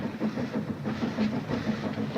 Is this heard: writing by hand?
no